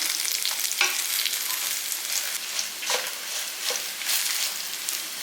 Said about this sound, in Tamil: வெள்ளைப்பூடு வெங்காயம் கருவேப்பிலை எல்லாமே நல்லா வதங்கிருச்சு